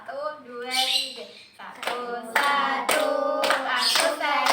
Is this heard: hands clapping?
yes